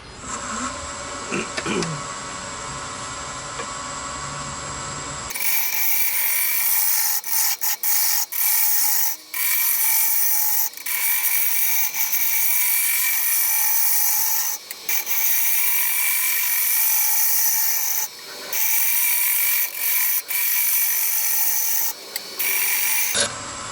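A wood lathe turns a wooden darning egg at 700 RPM, with a low hum at first, then loud sustained scraping and rasping of a tool on spinning wood, broken by brief pauses.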